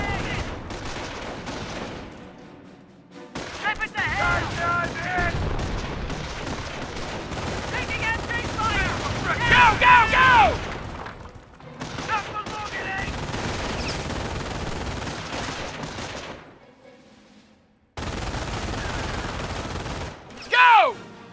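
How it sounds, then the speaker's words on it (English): Gunfire in Company of Heroes, a World War II Normandy battle at Carentan: continuous rifle and machine-gun volleys with blasts, interrupted by brief silences, under shouted soldier voices and a music score. "They're shooting at us!"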